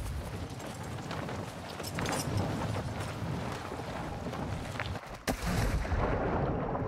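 Gunfire in the video game Modern Warfare (2022) battle royale, a dense continuous roar of shots and rumbling blasts filling the whole stretch, with a brief sharp crack near the end.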